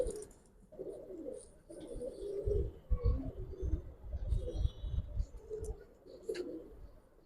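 Several Giribaz pigeons, an old breed, coo in low, throaty bursts, overlapping one another at close range with a few faint chirps in the background.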